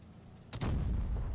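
An artillery gun fires in a tank video game: a quiet battlefield lull, then one sharp, loud blast cracks out and rolls into a heavy, sustained rumble that carries on to the end.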